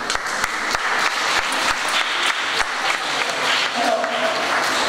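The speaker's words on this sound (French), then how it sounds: "les applaudissements" Audience applause at a student painting exhibition in a cultural centre: dense, steady clapping from a crowd, close and loud, sustained for about five seconds without a break.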